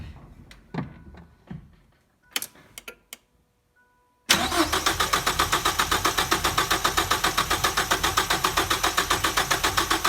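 A 1989 Ford Probe GT with a fuel pump being replaced cranks over with a rapid, rhythmic starter chug that runs steadily for several seconds, preceded by scattered clicks and clunks in a quiet garage.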